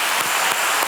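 A church congregation bursts into applause for the Lord during a worship service, a dense, steady wash of clapping hands that fills the whole short moment without pause.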